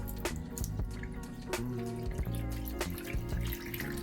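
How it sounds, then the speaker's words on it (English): Beef broth is poured over smoked oxtails in a pan as a quiet, close, continuous liquid pour with small splashes and drips for several seconds. "I'm gonna add me some beef broth."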